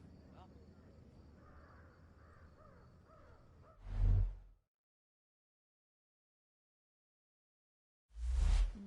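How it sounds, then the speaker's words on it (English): Crows caw in the stealth game Thief, two loud raspy bursts separated by silence after a stretch of low murmuring ambience. "Hear that, friends? It's the crows."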